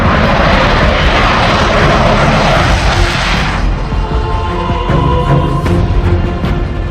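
An Indian Air Force Rafale fighter jet roars past loud and close, a broad rushing engine sound that eases after a few seconds into a lower, rumbling tail.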